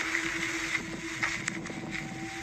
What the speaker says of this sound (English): You can hear the wind in the background and everything.